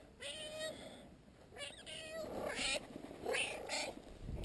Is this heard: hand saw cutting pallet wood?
no